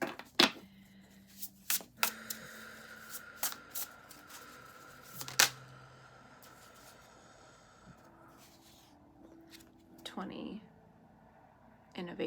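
Tarot cards being shuffled by hand, scattered soft riffles and flicks up close, quiet and intermittent, with soft speech around them.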